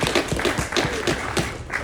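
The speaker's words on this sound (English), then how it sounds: "our audience, a round of applause as we welcome Mr. Craig Wolferts to confer our graduates" An audience at a Job Corps graduation ceremony applauds, giving steady, dense clapping at close range throughout the short moment.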